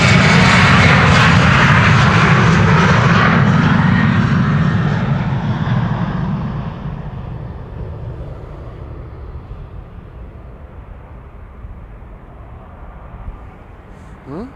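An airliner departing Amsterdam Schiphol Airport roars loudly at the start of its takeoff, then the engine noise steadily fades and drops in pitch as it climbs away into the distance.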